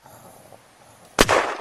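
A single sharp gunshot from a weapon in the zombie survival game Unturned, coming after a near-silent stretch, loud and close, with a short ringing tail.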